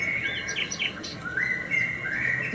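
Sparrows chirp rapidly and excitedly in a garden, high tweets overlapping in a busy, agitated flurry at close range.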